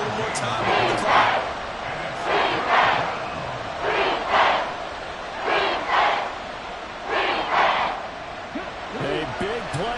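Stadium crowd roaring in an American football video game, a loud steady wall of cheering that swells in repeated surges, with commentary voices over it.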